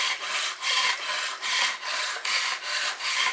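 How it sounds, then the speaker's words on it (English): A flint blade shaves a wooden bow clamped in a vise, making rhythmic rasping scrapes in six or seven steady strokes with brief pauses between them, close and fairly loud, with no talking. "I've marked the bow where it has to be shaved. And I just start shaving it like this."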